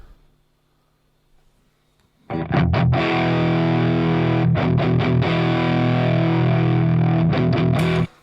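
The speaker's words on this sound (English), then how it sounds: "It's an ODR-1 natural overdrive." A gritty electric guitar through a Nobels ODR-1 overdrive pedal plays chunky chords after a quiet start, sustained and loud with short rhythmic breaks, no talking.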